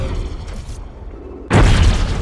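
Bombs go off in the underwater video game Song of the Deep, with a sudden loud boom bursting in after a quieter rumbling stretch and ringing on to the end.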